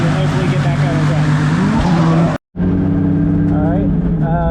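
A 1JZ-swapped Nissan 240SX idles at the track during cooling-system bleeding, a loud steady engine drone that cuts out briefly and resumes, with other cars audible in the background.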